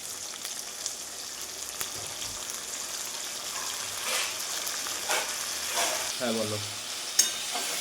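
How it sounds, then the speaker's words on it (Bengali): Onion, tomato and capsicum with whole garam masala sizzle steadily in a pan while being stirred, with scraping clatters and bursts of spitting; a voice speaks briefly. "এবার এটাকে ভালো করে এখন ভাজবো"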